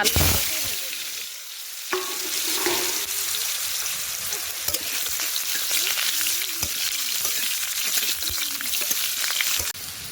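Potatoes frying in hot oil in a wok, a loud, close, continuous sizzle broken by occasional sharp scrapes and clinks of stirring, with no voices.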